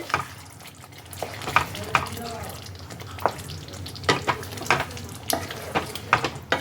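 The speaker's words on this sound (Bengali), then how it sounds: "ক্রিমটা দিয়ে ভালো করে এটাকে মিশিয়ে নিতে হবে" Fresh cream is stirred into stuffed Kashmiri aloo dum in a pan, a soft sizzle running underneath repeated scraping and knocking strokes of a spoon at an uneven rhythm, close and moderately quiet.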